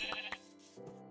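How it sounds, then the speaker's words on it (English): A sheep bleating in a survival-challenge video game, two short, faint, close bleats followed by a softer lower one, alone without talk. "Aha, sheeps."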